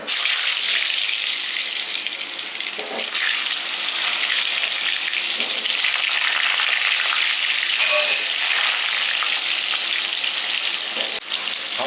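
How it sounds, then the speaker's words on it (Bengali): Potatoes frying in mustard oil in a pan for a mutton curry, giving a loud, steady hiss of sizzling with occasional soft knocks of stirring, heard up close. "আমি দিয়ে দিচ্ছি সর্ষের তেল আলুগুলো আমি ভেজে নিচ্ছি আগে"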